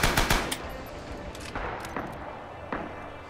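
Japanese machine gun in the game Rising Storm firing a few short, sharp bursts, loudest at the start and then scattered single cracks amid distant battlefield noise.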